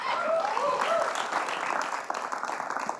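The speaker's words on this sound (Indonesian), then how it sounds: "tepuk tangan untuk Esa" Studio audience applause on the Family 100 Indonesian game show after a contestant's bonus round turn, steady clapping at moderate level with a host's voice briefly over it.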